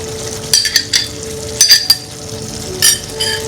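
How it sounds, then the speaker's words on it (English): A spoon scrapes and clinks around a pot as yogurt is stirred into egg biryani, coming in short bursts of metallic taps and scrapes over a faint background hum. "Mix it up, stir it"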